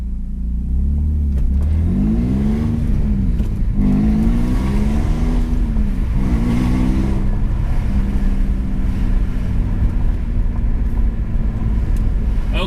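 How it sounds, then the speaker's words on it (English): A BMW E46 with a muffler-deleted exhaust drives through a neighborhood, its engine rising and falling through several moderate revs with a raspy, droning exhaust note heard close from inside the car. "with the muffler delete, there is actually some amount of exhaust sound now"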